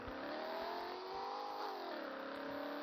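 A luxury car's engine drones steadily and revs with rising and falling pitch while being driven through a city in the online game Madout2 Big City, a continuous whirring tone without speech.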